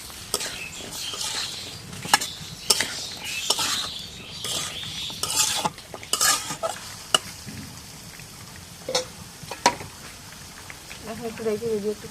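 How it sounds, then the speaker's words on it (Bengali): Scraping and stirring of spices and potatoes in a pan, with irregular clinks and rasps of a utensil against metal, heard close under a speaking voice. "এখন মশলাটা কষা নেয় সেখানে সব আলু দিয়ে দিই"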